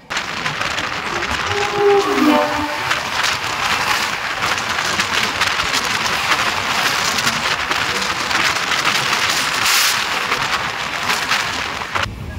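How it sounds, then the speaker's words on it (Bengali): The East Coast Express from Hyderabad to Shalimar passes close by, giving a loud, continuous, roaring rush of wheels and wind that holds steady for several seconds. "এবার সামনে থেকে আসছে হায়দ্রাবাদ থেকে শালিমারগামী ইস্ট কোস্ট এক্সপ্রেস, যার ট্রেন নাম্বার 18045।"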